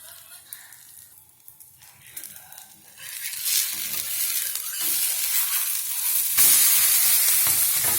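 Lentil adai dosa batter with onion and green chilli frying on a hot pan, a steady sizzle and hiss that swells louder partway through, close and continuous with occasional scraping.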